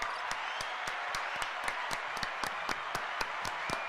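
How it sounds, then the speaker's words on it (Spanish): Light, scattered clapping from a small group in a football studio show, soft and somewhat distant, with sharp individual claps standing out over a faint background hum. "Los muchachos, aplauso."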